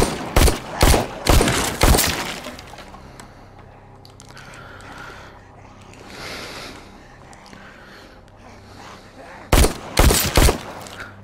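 Pistol gunshots in the VR zombie game The Walking Dead: Saints and Sinners, Chapter 2: sharp bursts of several close, loud shots at the start, a quieter stretch of game ambience, then another quick cluster of shots at the end.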